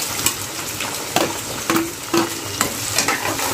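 Onion frying in hot oil with garlic in a pan makes a steady sizzle, while a spoon stirs it with several distinct scraping and clinking strokes, close by and without talk.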